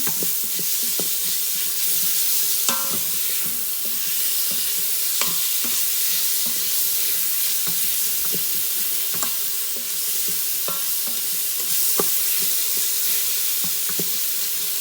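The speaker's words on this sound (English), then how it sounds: "now I'm going to add some garlic to it. Let that cook for about a minute." Garlic sautéing in an Instant Pot gives a continuous bright sizzle and hiss, broken by repeated scraping clicks of stirring close by, with no voices.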